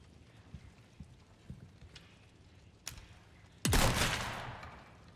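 A single loud gunshot from the video game Resident Evil 4 in hardcore mode, a sharp crack with a long ringing tail, preceded by faint scattered clicks and soft thumps in a quiet game scene.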